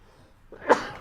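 A single sharp sneeze bursts out near the end after a quiet moment, close and fairly loud, during a tabletop Dungeons & Dragons session.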